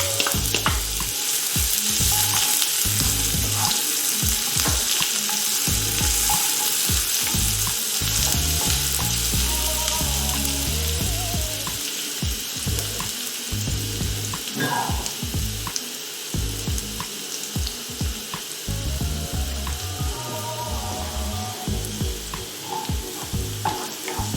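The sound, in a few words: onions frying in a pan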